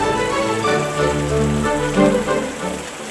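Steady rain falls at night, a dense continuous patter on surfaces, fairly loud and even throughout with no voices.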